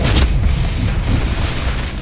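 Grenade explosions in the Deadpool video game on PS4, deep rumbling booms that keep rolling through the whole moment, loud and close, with no talking over them.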